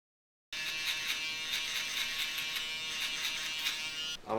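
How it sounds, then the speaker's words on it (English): After a moment of silence, an electric foil shaver starts and buzzes continuously at close range with a faint pulsing texture. "I'm gonna go in with my foil shaver."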